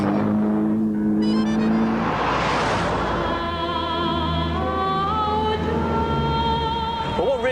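A 1955-era Citroen DS with hydropneumatic suspension cruises along, its engine a steady close hum that swells into a broad rushing surge midway before settling back to an even drone.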